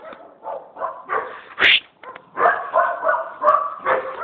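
A dog barks, yips and whimpers up close in a run of uneven bursts, with one sharper, louder yelp in the middle and brief pauses between calls.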